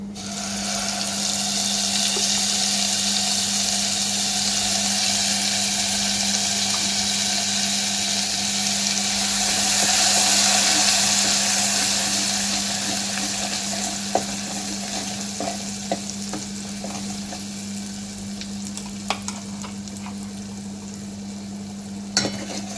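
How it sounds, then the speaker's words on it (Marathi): Ground masala paste frying in a pan for a horsegram curry, a continuous close sizzle with stirring scrapes and a few sharp clicks of the spoon against the pan. "आता यामध्ये आपल्याला वाटण घालायचे"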